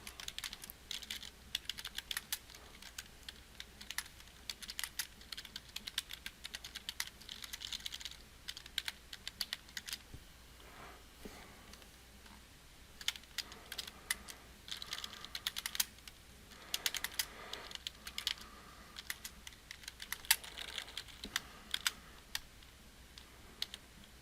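Typing on a computer keyboard while working in Google Docs, a quiet, close patter of rapid key clicks in bursts with brief pauses, continuing throughout without speech.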